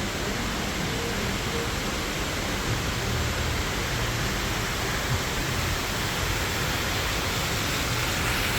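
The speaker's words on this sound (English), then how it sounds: "Then you get a waterfall over here. Ooh, a couple waterfalls." Indoor waterfalls at a Tennessee resort produce a constant, dense wash of falling water that stays loud and unbroken throughout, with no voices above it.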